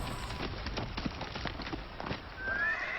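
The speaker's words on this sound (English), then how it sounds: "horses appeared in the moonlight, galloping down the hill towards the inn" Horses galloping down a hill by moonlight towards an inn, as an audiobook sound effect: a steady, close drumming of hooves, with a whinny rising near the end.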